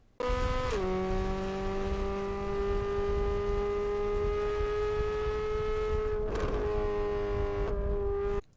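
A racing car engine holds a high sustained whine with a clear pitch shift and sharp transients, loud and close, with no talk.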